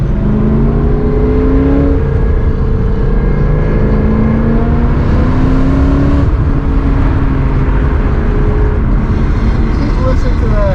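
A high-mileage BMW E39 M5 with a naturally aspirated engine, Dinan Stage 2 tune and crazy loud exhaust rumbles steadily, its engine note rising and falling through several revs, with a voice talking over it.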